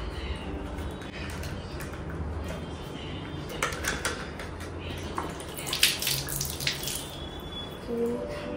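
An item is washed with running water, a soft continuous splashing and trickling with a few louder splashes later, faint birdsong and distant voices in the background.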